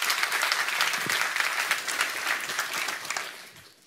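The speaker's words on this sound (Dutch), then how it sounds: "Dus wil ik graag beginnen met onze eigen voorzitter en een warm applaus vragen voor Dirk Duyser." Warm audience applause at the opening of a food week event, many hands clapping in a dense, lively wash at fairly close range, fading away over the last second.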